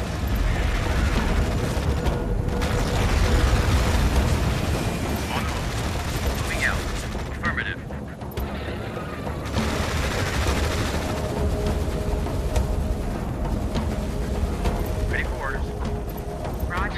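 Battle in Tom Clancy's EndWar video game, with dense continuous gunfire, rumbling explosions and mechanical clatter, overlaid with game radio voices.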